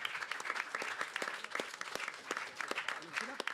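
Studio audience applauding a correct quiz answer: a quick, moderately quiet burst of many hands clapping, crisp and continuous for a few seconds with no talking.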